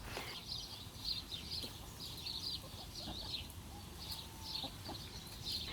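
Backyard chickens clucking outside their run, soft repeated clucks and chirps from a few birds at moderate distance, coming in a loose, uneven rhythm over a faint outdoor background.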